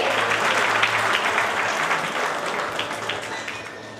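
Sustained audience applause at a corporate stage event for Oasis Tiles, steady dense clapping from a large crowd that holds throughout and tapers slightly toward the end.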